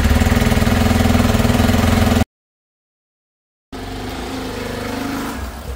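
A motorbike engine idles with a steady, close mechanical throb, breaking off into a short silence before the running engine sound resumes, a little quieter.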